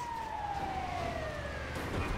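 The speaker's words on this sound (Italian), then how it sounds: "Ambulanza, raga." An ambulance siren sounds in GTA 5 Online, a long descending wail that bends downward as it passes, heard over steady engine rumble and game ambience.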